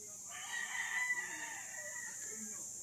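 Breeder chickens in coops on a flat farm lot: a rooster crows once, faint and somewhat distant, over a steady background hiss.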